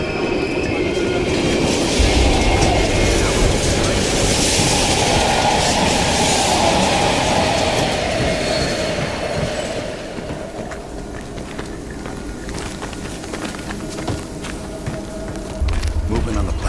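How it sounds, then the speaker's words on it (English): A train rumbles steadily past in a Call of Duty Black Ops Cold War level set in an abandoned station, loud and continuous with a rolling clatter and faint wheel squeal, fading slightly toward the end. "We can use a train to slip past."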